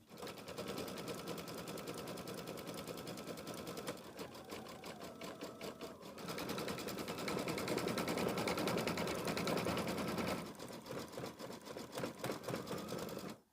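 Embroidery sewing machine stitching out the orange legs and beak of a small chick design for a quilt block, a steady rapid mechanical rattle running continuously and loud, with brief shifts in rhythm as the stitching changes direction.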